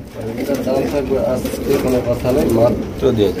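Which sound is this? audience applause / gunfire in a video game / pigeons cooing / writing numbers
pigeons cooing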